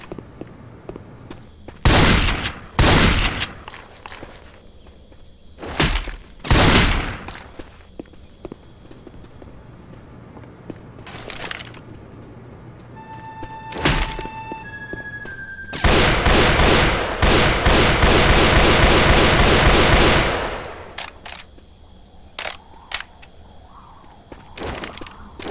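Shotgun blasts in Left 4 Dead 2: several loud, close booming shots spaced a few seconds apart, followed later by a sustained dense stretch of rapid firing and clatter, with no talking.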